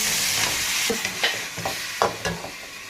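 Pressure-cooked mutton tipped into a hot karahi on a stove for white mutton karahi, giving steady sizzling frying broken by several clattering scrapes of a spoon, close and fairly loud, with no talk.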